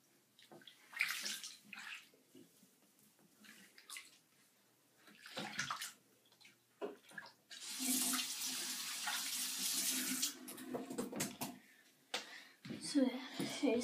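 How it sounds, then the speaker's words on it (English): Running bath water rinses a reborn doll, swelling into a steady, close splashing rush through the second half after intermittent splashes and trickles, with someone talking earlier in the clip. "now she can rinse it off"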